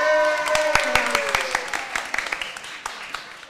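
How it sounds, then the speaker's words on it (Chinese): Applause breaks out among the congregation at a Christmas joint church worship service, a burst of sharp, close hand claps that thins into scattered claps over a few seconds, with a brief sung or spoken tone near the start. "好，再来掌声。"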